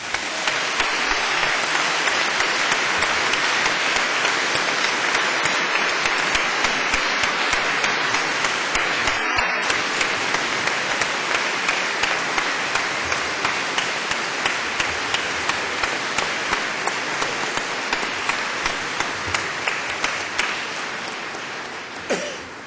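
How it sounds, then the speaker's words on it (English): Sustained applause from a large audience at a Cardiff University graduation ceremony, a dense, even roar of clapping that carries on loud for over twenty seconds before easing slightly at the end. "show your appreciation by giving them all a big round of applause"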